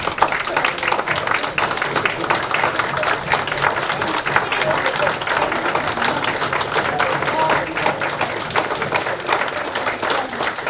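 An audience at a city council meeting applauds teachers with a sustained, dense round of clapping from many hands, fairly close and even throughout, with some crowd murmur mixed in.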